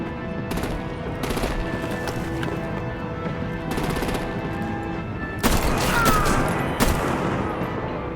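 Automatic weapon fire rattles through an action scene in the Batman: The Enemy Within video game, with bursts of gunfire and artillery that rise and fall over a steady rumble and get louder and denser toward the end.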